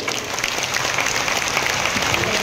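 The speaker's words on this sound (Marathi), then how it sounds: "संघटनेच्या वतीने आपण सर्वजण त्यांचा जोरात टाळ्या वाजवून स्वागत करूया." A large audience at a Shirdi old-pension convention claps loudly to welcome a guest, a dense, sustained patter of applause from many hands filling the whole stretch without pause.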